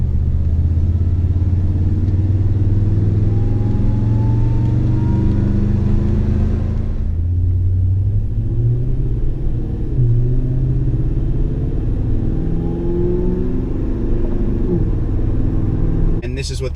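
A Toyota Tundra fitted with a BAmuffler TRD replacement exhaust rumbles loudly and steadily nearby, its deep engine note briefly rising and falling with a short dip midway.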